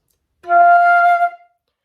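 A single sustained flute note, middle F, clear and steady, held for about a second before fading out, close and alone.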